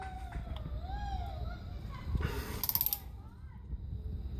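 A quick run of ratcheting clicks from a wrench tightening a brake hose bolt onto copper washers, a brief burst of several sharp ticks, over a low background rumble with faint chirping nearby.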